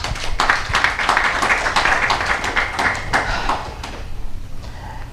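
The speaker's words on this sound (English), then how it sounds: "I think that deserves another round of applause." A room of audience members applauding at a leadership talk series, a dense, steady wash of many hands clapping at close range that fades out in the final second.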